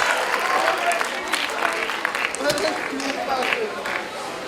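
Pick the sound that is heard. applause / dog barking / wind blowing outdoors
applause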